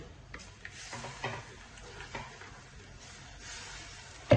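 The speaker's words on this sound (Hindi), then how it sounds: "इसको हिलाएंगे।" Tomato paste stirred in a pot while cooking masala ojri (goat tripe), a soft scraping and shuffling with faint sizzle throughout, a few louder spoon knocks against the pot, no talking.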